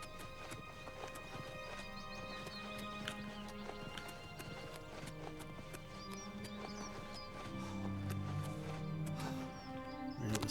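A horse gallops in Oblivion Remastered: quick, close hoofbeats clatter in a steady rhythm over a background hum, growing a little louder toward the end, with a brief whinny-like cry and no speech.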